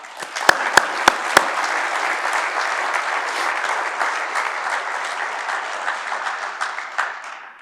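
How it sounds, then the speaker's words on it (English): Steady applause rises from the audience at a veterans' award gala for the honorees, a dense continuous clapping with a few sharp, close claps standing out near the start before it carries on evenly. "Let's give them a round of applause, please."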